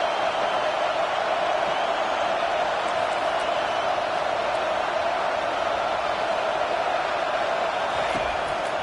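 A football stadium crowd roars steadily from start to finish, a dense, continuous wash of cheering and shouting with no breaks, loud and enveloping.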